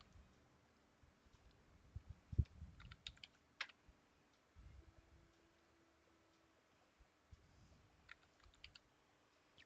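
Keystrokes tapping on a computer keyboard at a Linux terminal during a software install, sparse and fairly quiet clicks scattered through, with a few stronger presses and a faint steady hum beneath.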